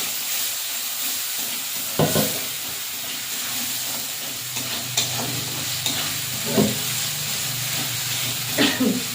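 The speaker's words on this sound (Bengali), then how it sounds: "কষে ভালো করে মশলাটা কষে নেব। দিয়ে দেবো অল্প একটু জল।" Spice paste frying in a pan for a fish curry, with a splash of water added, producing a sudden hissing burst of steam, then a steady sizzle with occasional stirring scrapes.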